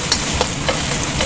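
Garlic sizzling in hot frying oil in a pan for a string bean and tofu dish. A steady loud crackle runs throughout, broken by a few soft scrapes of a spoon stirring, with no talking.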